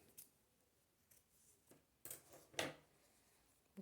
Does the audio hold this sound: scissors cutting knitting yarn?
yes